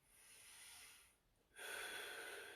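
A slow, deep breath drawn in through the nose during a stretch, close and quiet, with a short pause before a stronger, airy inhale.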